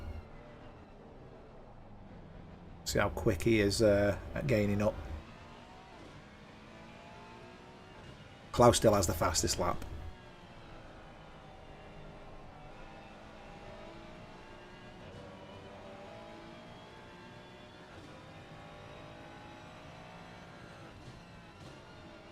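A race car engine drones onboard in a sim racing game at Snetterton, running steadily under continuous commentary, with two short, loud roaring bursts as the car accelerates.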